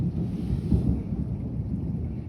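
Low rumbling thunder during a storm, a deep continuous roll swelling slightly midway, with wind buffeting in the background and no voices.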